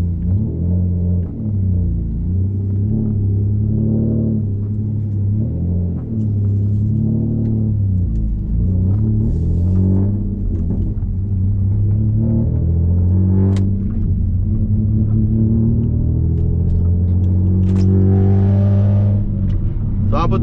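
A Nissan Maxima seventh-generation race car engine revs and accelerates in rising and falling pitch sweeps, loud and close from inside the vehicle, with a deep rumble underneath.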